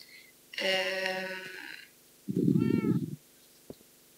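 A Minecraft cat meows twice, a bright drawn-out call followed by a lower, rougher one, close and clear, then a faint click.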